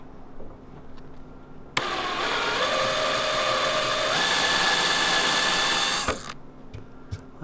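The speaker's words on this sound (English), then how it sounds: "This little gadget here countersinks my screws, so every one of them is the same." A handheld power drill with a countersink bit runs in one steady continuous burst of several seconds, close and loud, revving up slightly partway through before stopping, with quiet room tone before and after.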